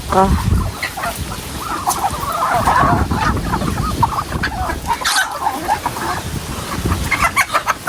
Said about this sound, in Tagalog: Ayan, kagulo na ang mga manok